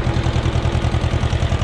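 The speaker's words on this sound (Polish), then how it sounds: "Bo mi się ciągnik zagotuje na wolnych obrotach." A tractor engine idling at low revs in the field during potato planting, a steady close rhythmic low thrum that pulses evenly throughout, loud with no talk.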